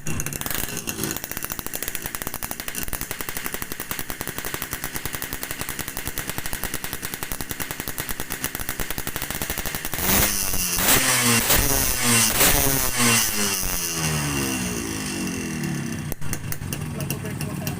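A Yamaha RX King two-stroke motorcycle with a loud drilled-out exhaust, revving close up with a steady rapid rattling throb that surges harder and higher partway through before settling back.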